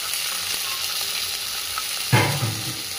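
Fish frying in a pan at home, giving a steady sizzle that stays fairly even, then swells into a louder crackling burst near the end as the pieces are stirred or turned.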